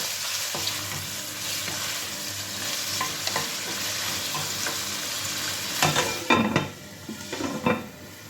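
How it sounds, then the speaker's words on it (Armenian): Pieces of heart and lung are stirred as they fry in a pan, making a steady, close sizzle. Louder spatula scrapes and clatters come near the end. "Թողնենք մի քիչ տապակվի։"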